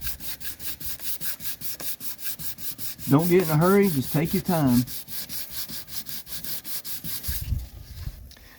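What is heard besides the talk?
sandpaper sanding body filler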